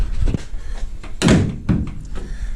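A Rover P5B Coupe rear door, freshly adjusted on its hinge, shuts with one loud, solid thunk and a brief rattle of the latch, close up, amid quiet workshop background.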